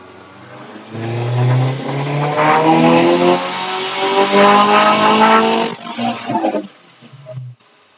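A Subaru Legacy GT with a rotated turbo and flex fuel revs on a dyno during a pull, the engine swelling into a loud, sustained rising roar before cutting off abruptly, ending with a brief idle burble.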